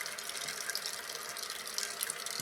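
Steady hiss and rush of water as a toilet tank refills through its float-controlled fill valve, continuous and fairly quiet, with no talking.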